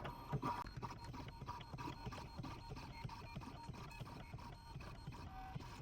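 Electronic cutting machine slicing holes and the outline of a notebook cover, a faint continuous whir with quick repetitive ticking and stepping motor sounds, close and without voices.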